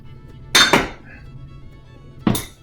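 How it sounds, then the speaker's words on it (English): A metal fork lifted from a pile of kitchen utensils: two quick bright clinks close together, a pause, then a third sharp clink, close and clear against a quiet room. "Now I'm going to get the old fork"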